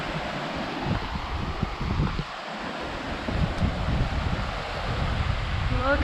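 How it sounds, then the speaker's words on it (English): Waves on a lake wash and splash steadily with wind rushing across the microphone, a continuous outdoor roar without speech. "The water's so blue. It's got waves, but it's a lake."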